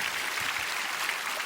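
Congregation at a worship service clapping in steady, dense applause throughout, fairly close and even in loudness, with no voices over it.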